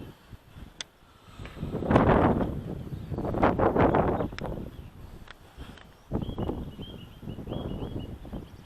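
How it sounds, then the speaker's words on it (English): Strong wind rushes through nearby trees in rising and falling gusts, roaring loudest in broad surges with rustling between them and occasional faint clicks. "Quite a bit of wind blowing in now."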